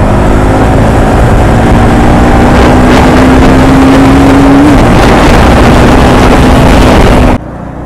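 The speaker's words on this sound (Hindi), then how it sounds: "बाइक का एक बार आवाज़ सुनो" A loud NS200 motorcycle engine drones steadily with a rising and falling pitch, heavy low rumble throughout, cutting off abruptly near the end.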